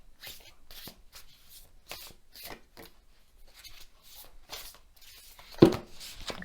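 Tarot cards being shuffled and drawn by hand, repeated soft papery riffles and slides in an irregular rhythm, close and quiet, ending in one sharper slap of a card.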